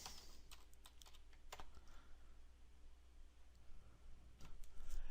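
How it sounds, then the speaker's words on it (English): Steady, rapid keystrokes on a computer keyboard as a username and password are entered, a close, continuous clatter over a faint background hum. "Type in my username and password."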